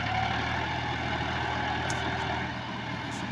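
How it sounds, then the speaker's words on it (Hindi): Tractor engines, a Powertrac 439 and a 1996 Mahindra 375 DI, run at a steady, even idle, a low continuous rumble heard alone without voices. "पावरटेक ट्रैक्टर को निकालने आया है 1996 मॉडल महिंद्रा ट्रैक्टर"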